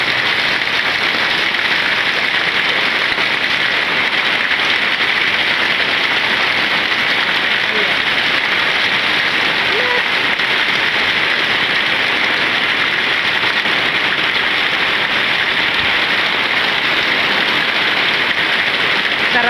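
Heavy rain pours down in a steady, dense hiss that never lets up, loud and close throughout.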